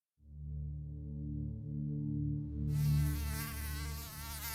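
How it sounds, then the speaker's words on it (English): A steady, droning mosquito buzz hums close by outdoors at night, then a brighter, fuller whine joins in partway through and continues to the end. "There's a lot of mosquitoes out tonight."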